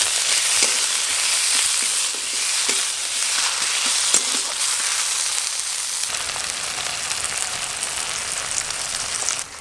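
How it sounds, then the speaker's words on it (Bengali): Chopped tomato and salt hit hot oil and spices while aloo dum cooks, giving a steady close sizzle and frying hiss with a few small stirring clicks throughout, no voices. "মশলার কাঁচা গন্ধ চলে গেছে, এবার টমেটো কুচি দিয়ে দেব"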